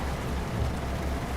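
Steady, dense rain hisses over a truck cab in Euro Truck Simulator 2, a continuous wash of noise with a low engine rumble underneath and no talk.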